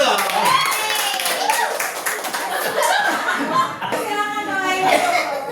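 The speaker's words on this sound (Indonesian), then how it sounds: "Tepuk tangan dulu ya." Hand clapping from a small seated group at a teachers' gathering, moderately close, mixed with chuckles, laughter and overlapping chatter throughout.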